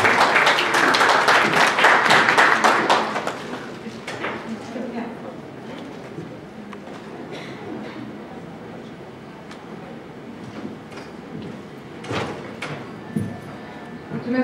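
Applause from a seated audience at a marketing and PR conference session, loud and dense in the first few seconds as a McCann PR consultant is welcomed, then thinning to scattered claps and room noise.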